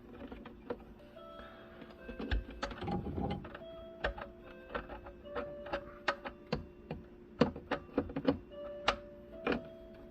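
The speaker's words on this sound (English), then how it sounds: "We take our screws and screw those in." Screws being driven in by hand while a garbage disposal is installed under a sink, giving a series of sharp, close ticks and metallic clicks in irregular bursts, with scraping and handling noise between them.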